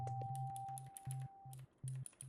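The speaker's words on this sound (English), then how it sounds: "This is my first mechanical keyboard, and I love that it's transparent." Keys on a transparent mechanical keyboard clack in a fast, uneven run of crisp close clicks with short pauses, over a thin steady tone that fades partway through; no one speaks.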